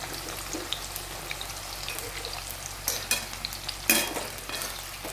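Raw mango pieces crackle and sizzle as they fry in oil for pickle, punctuated by a few sharper spattering bursts and stirring sounds up close.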